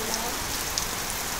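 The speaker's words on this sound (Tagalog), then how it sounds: "umuulan ng malakas" Heavy rain pouring steadily, a dense continuous hiss of drops striking a surface, close and even throughout.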